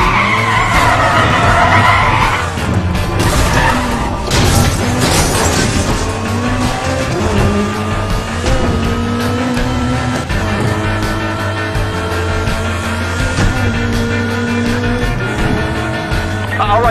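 Racing cars skid and squeal their tires through a street race in Need for Speed: The Run, with loud continuous engine roar and sustained screeching throughout, and a short crash-like burst early on.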